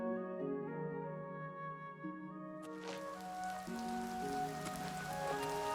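Steady rain falls in the video game Oblivion Remastered, a soft continuous hiss that swells after a few seconds beneath sustained game music, with no talking.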